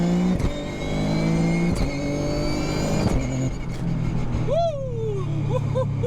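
A Toyota GR Yaris accelerates hard through second and third gear, its engine rising in loud, steady pulls broken by quick, snappy shifts. A short whooping voice cuts in near the end.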